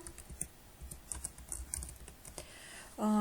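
Typing on a computer keyboard while entering text on a presentation slide: a run of faint, quick key clicks, steady but uneven, ending in a short louder tone.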